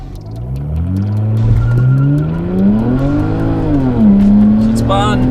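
A BMW with an N54 engine launches hard from a standstill with wheel spin, its loud engine note climbing and dipping in pitch as the tires briefly squeal, with voices speaking inside the car.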